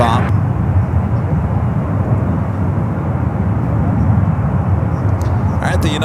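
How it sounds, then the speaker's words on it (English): United Boeing 777-300ER airliner flying at San Francisco airport, a loud, steady broadband engine roar filling the whole span. "All right, the United 777-300ER, the flight heading to Hong Kong."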